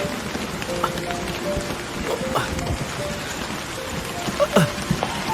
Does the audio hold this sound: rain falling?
yes